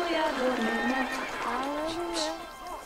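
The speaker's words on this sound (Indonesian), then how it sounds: "Ada suara kuda" A horse neighs and whinnies in the medieval game Kingdom Come: Deliverance II, a wavering high call that rises and falls for a few seconds over ambient game noise, with a voice faintly present.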